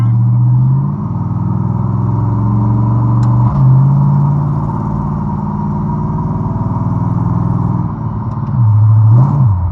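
A supercharged 1955 Chevy V8 is driven with repeated throttle blips, the loud close engine note climbing and falling in pitch through several revving surges over a constant heavy rumble.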